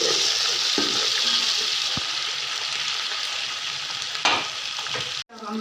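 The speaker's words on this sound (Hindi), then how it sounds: "अब हम लहसुन, हरी मिर्च का मसाला, अदरक कूटा हुआ वो डाल रहे हैं।" Garlic, green chili and crushed ginger frying in a pan, a steady loud sizzle with brief stirring clatters and a sharp clink near the end, no talking.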